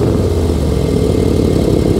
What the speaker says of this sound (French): je ne peux pas passer sous silence le tuyau d'échappement sur le côté.